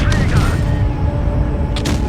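A deep, booming E100 tank cannon blast in a video game sounds amid a dense low rumble, followed by another sharp shot near the end, loud and close.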